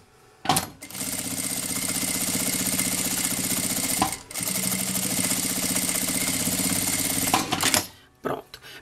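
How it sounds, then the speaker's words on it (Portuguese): A sewing machine running a half-foot seam around the full edge of a rip-style bag piece, with a steady loud motor buzz and rapid stitching that stops briefly near the middle. A voice speaks at the start and end. "Agora eu passo uma costura de meio pé de máquina aqui em toda a volta."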